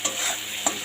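Potato pieces fry in a pan, a brief hissing sizzle with two quick scraping stirs, close and fairly quiet.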